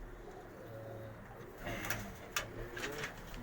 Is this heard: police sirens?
no